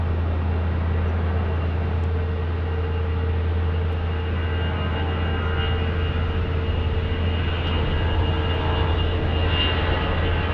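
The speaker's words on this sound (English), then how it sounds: "Here's an oldie but a goodie, an A319 departing." An Airbus A319 airliner departing Phoenix Sky Harbor International Airport, a steady broadband engine roar with a low droning hum, loud and sustained throughout without any talk.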